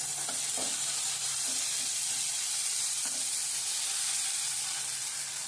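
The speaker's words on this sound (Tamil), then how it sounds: "இஞ்சி பூண்டு பேஸ்ட் போட்டு கொஞ்சம் நல்லா வதக்கிக்கணும்" Ginger garlic paste sautéing in a pan as the base for prawn thokku, a continuous close hiss of frying with light stirring knocks and no talk.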